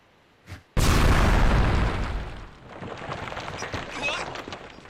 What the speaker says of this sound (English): It triggered the explosion.